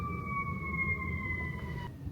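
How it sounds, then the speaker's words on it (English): A distant emergency siren drifts up from a Chicago street outside a riverside hotel, a thin sustained wail over a low city hum before it cuts off near the end. "You can hear the Chicago sirens going off."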